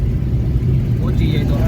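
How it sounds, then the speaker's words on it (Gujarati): An overloaded tractor hauling pipes rumbles past on a village road, its engine a steady, close, low drone throughout, with a voice talking over it. "આ પાઇપ લઈને જાય છે ઓવરલોડમાં. આ ટ્રેક્ટર ધરાર શું કરશે હવે આમાં?"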